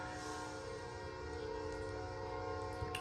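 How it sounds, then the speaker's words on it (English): A train passes loudly, a steady sustained rumble with a droning tonal hum filling the whole stretch, no speech. "Sorry, the train's really loud, so I apologize."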